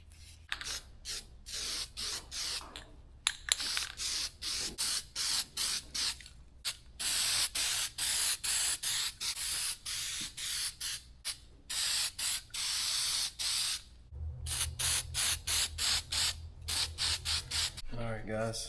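Spray can primer hisses in repeated bursts onto a youth Ruger 10/22 rifle stock being prepped for hydro dipping, each spray lasting a few seconds with short pauses between, close and steady.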